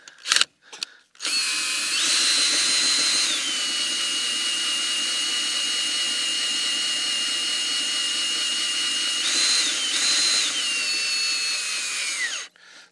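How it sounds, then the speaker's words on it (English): A cordless drill lowering caravan legs whirs continuously at close range for about ten seconds after a few short clicks, its pitch dipping as it works under load. "So got the trusty drill"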